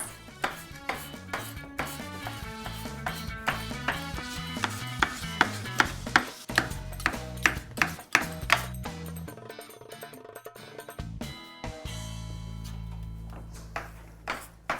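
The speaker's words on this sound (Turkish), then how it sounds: "Birazcık da kuyruk yağımız var. En sonunda onu kıyarız." Beef tail fat being chopped for tantuni, a knife striking a board in quick, crisp repeated chops close up, with a short pause near the end before the chopping resumes.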